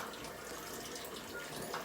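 A kitchen tap runs steadily into a sink while liver, onions and gravy are cooked, a continuous broadband hiss of flowing water heard close and alone throughout.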